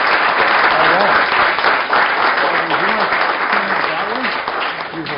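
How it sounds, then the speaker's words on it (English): Loud audience applause fills a council meeting room, with sustained clapping that eases slightly toward the end and voices talking and cheering over it. "How about a round of applause?"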